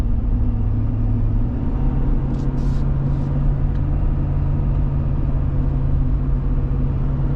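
A 2022 Ford Super Duty F350 pickup towing an aluminum trailer, heard as a steady, loud low engine and road rumble that holds even throughout with no talk.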